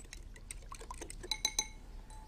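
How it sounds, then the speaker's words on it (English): Egg and milk being whisked together in a bowl, a rapid series of light metallic clinks and taps against the bowl, a few sharper knocks near the end, close and fairly quiet with no talk. "Give it a good old whisk."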